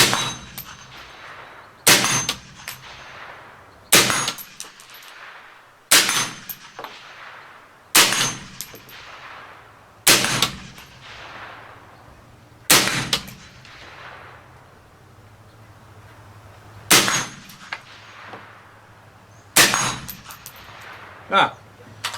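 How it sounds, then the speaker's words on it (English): Nine rifle shots from a Bear Creek Arsenal rifle ring out one at a time at uneven intervals, each followed by a sharp metallic clang from a steel plate about 50 yards away, with faint ringing between the shots. "I'm shooting into a steel plate that's about 50 yards away."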